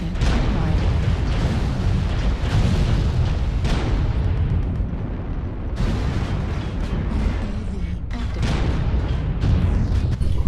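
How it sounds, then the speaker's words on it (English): Repeated heavy explosions from an artillery strike in MechWarrior Online, rolling booms layered over constant loud battlefield rumble, with several sharper blasts standing out across the stretch. "Artillery strike online."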